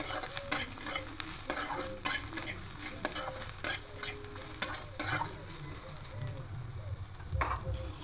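Bitter gourd frying in a pan as four green chilies are stirred in, with a spatula clicking and scraping against the pan in quick, irregular strokes over a soft, continuous sizzle.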